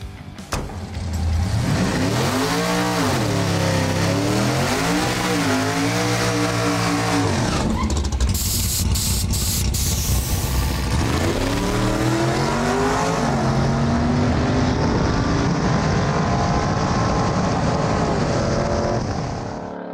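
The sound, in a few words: Ford Granada sleeper car accelerating on nitrous at drag strip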